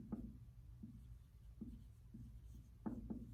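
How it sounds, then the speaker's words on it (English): Pen or marker strokes on a board for a geometry diagram, a handful of short faint scratches spaced irregularly in a quiet room. "Let me write that down."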